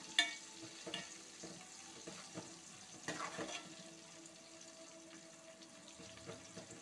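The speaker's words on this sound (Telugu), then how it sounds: "ఉల్లిపాయలు కూడా బాగా వేగాయి." Onions frying in a pan for chukka kura chicken curry, a soft steady sizzle with occasional stirring clinks and scrapes, fairly quiet and close, with a brief watery rush near the middle.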